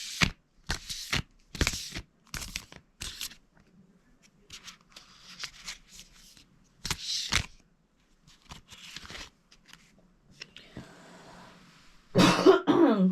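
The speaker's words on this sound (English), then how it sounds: "I do keep coughing today" A sick person coughs in a series of sharp, fairly loud bursts, several close together at first, then a pause, another cough and a final harsh cough, with no talking in between.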